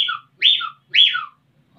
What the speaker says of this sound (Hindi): अगर उनको सारी भेड़ों को चलते चलते रोकना है तो वो कैसे रोकती हैं? उसमें भी सीटी बजाने पड़ते हैं।